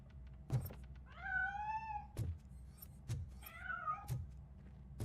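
A cat meows twice in the RoboCop: Rogue City video game, two drawn-out, rising-then-falling calls set between sharp clunking thuds, fairly close and with no talking.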